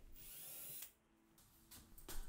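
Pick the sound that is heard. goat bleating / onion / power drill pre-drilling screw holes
power drill pre-drilling screw holes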